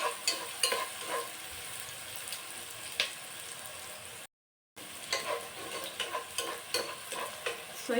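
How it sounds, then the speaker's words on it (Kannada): Masala and vegetables frying in a pan for bisibelebath, giving a close, steady sizzle broken by repeated scraping stirs, with a brief silent break midway. "ಇದು ಸ್ವಲ್ಪ ನೀಟಾಗಿ ಫ್ರೈ ಆಗಬೇಕು."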